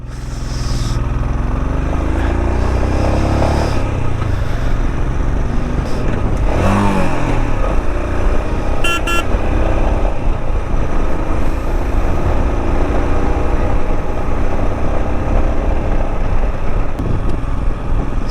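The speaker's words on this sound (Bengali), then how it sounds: "চোদ্দো হাজার ফিট উপর দিয়ে বাইক চালানোর মজা আলাদা ভাই" Solo motorcycle ride at around fourteen thousand feet near Pangong Lake in Ladakh, the bike's engine droning steadily and loudly throughout with rushing wind, a brief shift in pitch as it accelerates, no talk.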